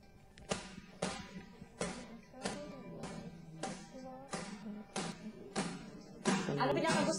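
Someone raps knuckles on a glass door, eight sharp separate knocks in a fairly steady rhythm, close and clear over a faint room hum, with a busier, rougher scuffle of noise at the end.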